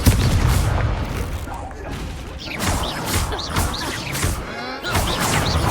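Confringo fire spell explosion in Hogwarts Legacy during a hectic fight: heavy booms and smashing impacts in quick succession, with voice sounds mixed into the din.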